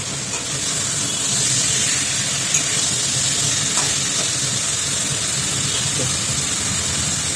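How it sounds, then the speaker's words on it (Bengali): A steady, loud sizzle of masala being sautéed in an iron kadai for a spicy pabda fish curry, a continuous hiss that holds evenly throughout. "এবার দেখুন হালকা করে কষে যাচ্ছে।"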